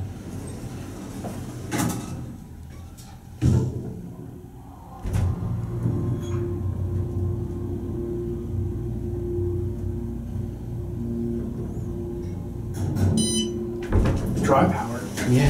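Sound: Otis hydraulic elevator motor running in a parking garage

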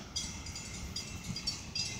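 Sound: end of FEC freight train passing

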